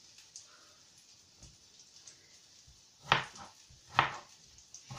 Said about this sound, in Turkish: şimdi patatesleri çubuk şeklinde doğrayacağım